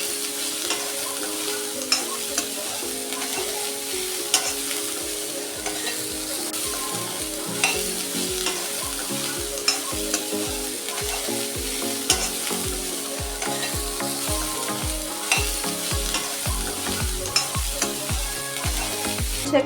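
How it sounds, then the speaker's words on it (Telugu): Cinnamon, cardamom, cloves, onions and masala spices sizzle steadily in a pan for a baby corn and capsicum curry, while a spoon scrapes through them in a regular, repeated stirring rhythm close by, with no talking. "లైట్గా వేగేదాకా వేపుకోవాలి. పచ్చివాసన పోయేదాకా వేపుకోవాలి."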